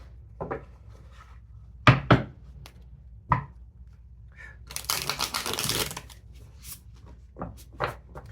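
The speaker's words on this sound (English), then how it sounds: "Feel free to fast forward through the shuffling if you want." Tarot cards being shuffled in a quiet room: scattered taps and knocks, then a riffling flutter of cards, fairly close.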